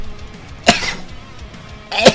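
Two sharp, short sneezes about a second and a half apart, close and fairly loud against a quiet background.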